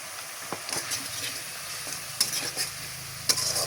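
Ground spices and a splash of water hit hot oil, a continuous crackling sizzle with several sharp bursts and stirring clatter, close and without speech.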